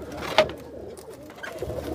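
Pet pigeons cooing softly nearby, low murmuring calls with one slightly louder note early on, otherwise quiet and even.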